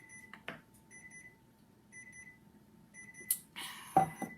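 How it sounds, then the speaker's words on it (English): A kitchen timer goes off while shortbread cookies bake, sounding as a series of clear repeated beeps in short bursts, followed by louder clattering handling noises near the end, with no talking. "There's our timer again."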